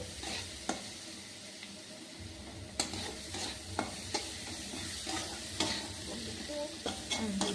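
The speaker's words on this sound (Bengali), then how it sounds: "ঘি দিয়ে আবার এটাকে ভেজে নেব।" A semolina mixture fries in ghee in a pan, with a steady close sizzle under repeated sharp spatula scrapes and knocks against the metal, and no voices.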